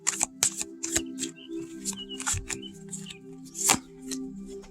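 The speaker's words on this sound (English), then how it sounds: "they do riffle shuffle pretty good" A pocket-sized tarot card deck is riffle shuffled several times close up, with rapid fluttering card bursts and soft taps as the cards are squared between shuffles.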